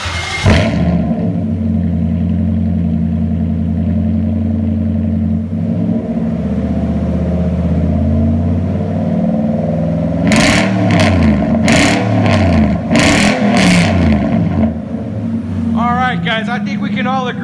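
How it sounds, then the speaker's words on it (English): A 2006 Nissan Titan 5.6L V8 with a Flowmaster true dual exhaust rumbles loudly at idle up close, then gives a series of sharp, aggressive throttle blips. A voice talks over it briefly near the end. "I think we can all agree that is a loud and aggressive vehicle."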